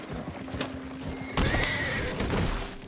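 A carriage horse in the Red Dead Redemption 2 video game clops its hooves and then lets out a loud, close whinny mid-clip, over a low rumble of wheels.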